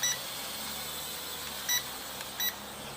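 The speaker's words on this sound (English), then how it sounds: "you hear the first beep" Three short electronic beeps, one at the start and two later spaced about a second apart, over a faint steady background hiss.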